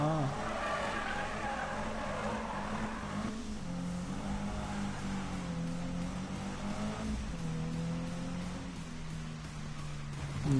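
Tires squeal and skid steadily as a car spins donuts in the Need for Speed 2015 video game, with a continuous engine drone underneath that runs loud and unbroken throughout.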